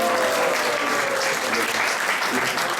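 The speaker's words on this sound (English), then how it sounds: "Let's give a round of applause for this wonderful." A temple congregation at ISKCON Atlanta's 50th anniversary celebration for Nitai-Gaur bursts into sustained applause, many hands clapping together in a steady, fairly loud wash, with a faint tonal hum or voice trace underneath.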